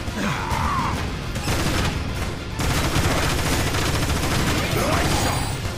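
A gun fires in the video game Transformers: War for Cybertron, loud rapid energetic shots in a continuous dense barrage with booming impacts, dense and near throughout, briefly thinning in the middle.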